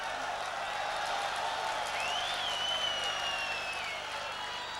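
A local football crowd at a stadium cheers its team with steady, distant applause and crowd noise, with faint whistles and calls rising above a broad roar.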